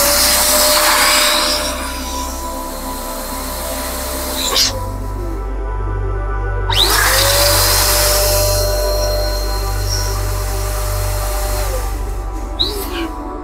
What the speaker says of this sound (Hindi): इसको आप बैलून पंप बोल सकते हो, बैलून मशीन बोल सकते हो।